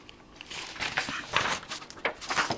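A sheet of paper is handled near the microphone, giving a run of soft crinkling and rustling sounds with irregular bursts over a couple of seconds.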